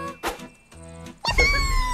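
A cat meows in an Oculus Quest hand-tracking game: a couple of short synthetic meow calls, then a brighter, louder burst of game sounds with chimes at the end, close and clear with no talk.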